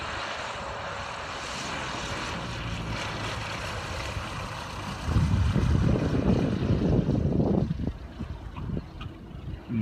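Zenith CH 750 Cruzer light propeller aircraft coming in to land on its first flight, a steady distant engine drone that swells louder and rougher midway through, with wind noise and no talk.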